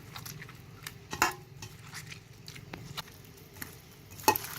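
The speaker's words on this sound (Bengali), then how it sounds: "এবার খুব ভালো করে সয়াবিনগুলোকে মেখে নিতে হবে।" Soybean chunks being mixed by hand for a Bengali village-style recipe, giving soft, irregular squelching and patting with a few sharper clinks of a bowl, fairly quiet and close, with no talking.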